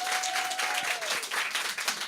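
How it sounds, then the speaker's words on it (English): Audience applause in a small listening-room music venue: steady clapping fills the whole short span, with a faint tone sliding down beneath it. "Please give her another round of applause."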